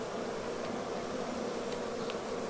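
A honeybee swarm buzzes in a dense, continuous hum, steady and fairly close, with a few individual bees passing nearer through the drone and no talking.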